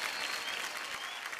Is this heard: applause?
yes